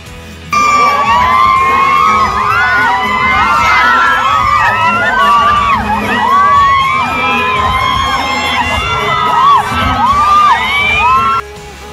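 Fans at a Kim Chiu event at a Chowking halo-halo promotion shout and scream without pause, a loud, dense wall of high-pitched cheering and whooping that drowns out everything else for the whole stretch.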